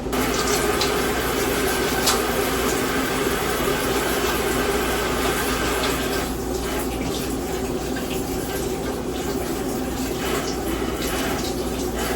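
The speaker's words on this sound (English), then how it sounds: "let me wash my hands real quick" Hands being washed under a running kitchen sink tap, a steady close rush of water pouring throughout with faint splashing shifts as the hands move, no talking.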